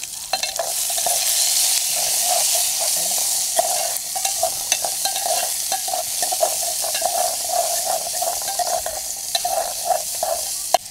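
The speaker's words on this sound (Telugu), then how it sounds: "వెల్లుల్లిపాయలు మంచిగా వాసన వచ్చేదాకా వేయించండి, వేయించేసుకోండి" Garlic, onion and curry leaves fry in hot oil with a loud, continuous sizzle up close, with frequent crackles and spatula stirring throughout.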